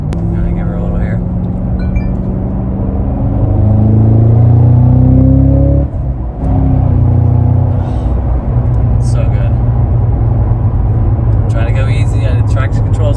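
A 2022 Cadillac CT5-V Blackwing switched into track mode accelerates, its deep engine rumble rising in pitch with a steady climbing drone, briefly dipping around the midpoint before holding a loud, sustained roar.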